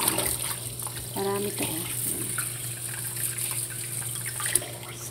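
Red tomatoes being washed under a running tap, a steady rush of water with faint splashing, heard under someone talking.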